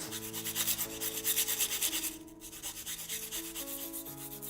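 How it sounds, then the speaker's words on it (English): A charcoal drawing stick rubbed back and forth on sandpaper to sharpen it, a steady rhythmic scratchy rasp repeating in close, even strokes, with one brief pause midway. "I just want this stick to get sharpened"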